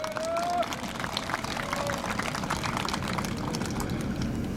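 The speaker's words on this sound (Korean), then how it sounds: "이분에게 박수 한번 쳐주시기 바랍니다" An outdoor audience applauds at a statue unveiling ceremony in front of the Gyeongbuk provincial office, giving a steady dense patter of clapping that holds throughout.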